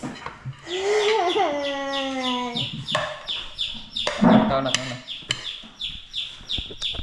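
A chicken clucks and crows nearby in a long, wavering call, followed by scattered clucks while people talk in the background at a birthday gathering.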